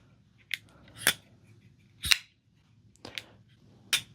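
A Vero Engineering Avid 2 knife's blade is flicked open and shut, giving five sharp, crisp clicks spaced unevenly about a second apart, close and clear against a quiet background.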